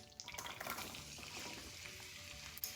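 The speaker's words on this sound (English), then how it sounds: "Yeah, you hear that sizzle?" Diced onion and celery sizzle steadily in butter in a hot pan, a soft continuous crackle and hiss with occasional small pops, fairly quiet and close.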